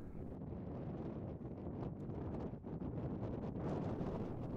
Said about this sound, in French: Le vent souffle en rafale.